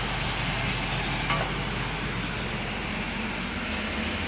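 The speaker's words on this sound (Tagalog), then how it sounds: "So ginigisa muna yan mga gawiks no." Garlic sautés in a pan for a pork pata pochero, giving a dense, even sizzle that holds steady and close for the whole stretch.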